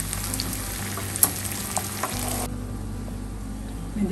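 Malai chicken with a barbecue-style red char being stirred into masala gravy in a pan, giving a steady close frying sizzle with a few light clinks of a spoon against the pan, and no talk over it.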